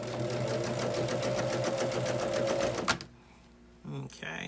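A sewing machine stitches strip-pieced fabric for a table runner, a fast steady needle rattle for about three seconds that stops abruptly, followed by brief quiet and a couple of soft handling sounds.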